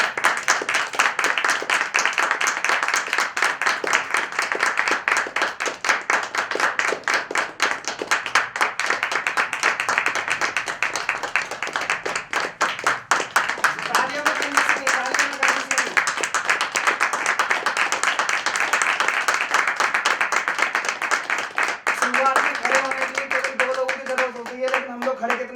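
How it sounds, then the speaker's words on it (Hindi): Loud, sustained clapping from an audience at a self-employment and Ayurvedic product meeting in Vrindavan, dense and continuous for the whole stretch, with a voice or music tones surfacing underneath toward the end. "एक बार जोरदार तालियां।"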